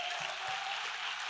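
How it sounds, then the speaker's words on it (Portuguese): Brief burst of applause from a church congregation, a dense patter of clapping, steady and moderately loud throughout. "Dá uma salva de palmas para Jesus."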